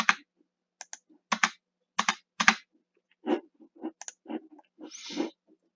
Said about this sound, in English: Just by hitting spacebar, you can flip the walls back and forth.